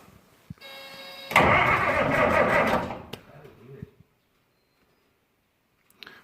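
A vehicle engine cranks briefly, catches with a loud rough rumble for about two seconds, then dies away into silence, with a few faint clicks afterward.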